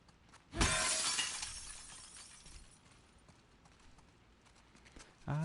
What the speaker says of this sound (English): I love the sound of breaking glass.